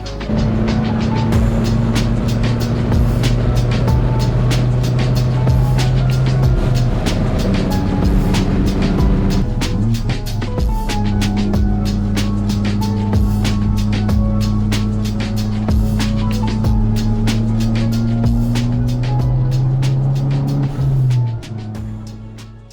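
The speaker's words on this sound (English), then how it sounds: "Crazy exhaust leak." Abarth car engine running with an exhaust leak from failed gaskets, a loud steady drone with rising and falling pitch as revs change, sharp ticking pulses throughout, fading out at the end.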